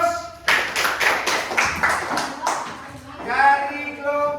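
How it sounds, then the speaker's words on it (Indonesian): Audience applause at a school project showcase, a burst of hand clapping that rises and falls with individual claps audible, while a voice speaks over and after it. "Kita kasih aplaus."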